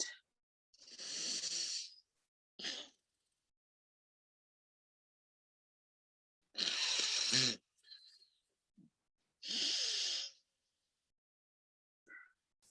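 Slow, deep breaths in and out through the nose during a guided relaxation session, three long airy exhalations separated by silence, close and alone.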